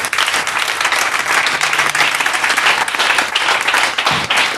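A church congregation bursts into loud, sustained applause, a dense wash of many hands clapping continuously and close, with a faint crowd murmur underneath.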